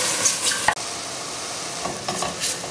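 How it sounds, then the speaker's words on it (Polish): Mushrooms and onion stewing over high gas heat give a steady sizzle, while a spoon stirs and scrapes through them with a sharp knock against the pot. "Pieczarki pięknie zgrzytają pod łyżką, dlatego że są duszone na wysokim palniku, wysokim gazie"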